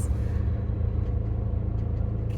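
Car on a road heard as a continuous low rumble of engine and tyres, steady and fairly close.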